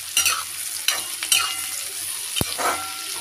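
Ridge gourd and pointed gourd with onion stir-frying in a pan, steady sizzle with a spoon scraping and stirring in several strokes and a single metallic clink, close and alone.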